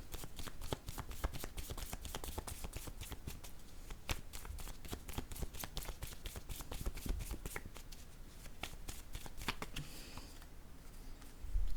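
Picture cards are shuffled for close to twelve seconds, a rapid run of crisp flicking and slapping taps that sounds close and fairly quiet, with no voice.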